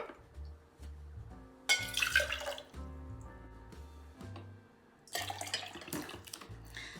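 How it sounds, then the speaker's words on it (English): Cranberry juice poured from a quarter-cup measure into a cocktail shaker, two separate splashy pours a few seconds apart, close by, over steady background music. "I'm using a 1/4 cup measure to measure out 1 cup of"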